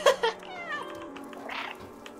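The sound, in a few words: cat meowing in the video game Stray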